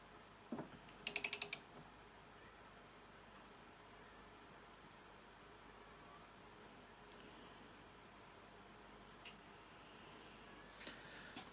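The knee of a Myford ML10 milling machine being adjusted gives a quick burst of rapid metallic clicking near the start. Faint quiet follows, broken by a few soft knocks.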